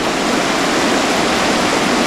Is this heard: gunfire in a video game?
no